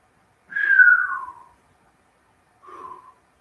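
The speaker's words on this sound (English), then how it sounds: "Didn't mean to whistle there" A person exhales through the mouth with a clear whistle during a breathing exercise: one longer, falling tone, then a second, shorter and softer one after a pause, in a quiet room.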